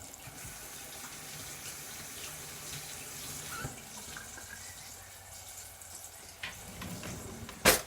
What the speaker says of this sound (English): I have to wash my hands again.